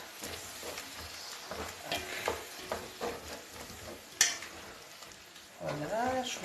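Folong and prawns sautéing in a pot as meat juice is poured in, giving a soft sizzle with stirring scrapes and a clink partway through, followed by a pour near the end.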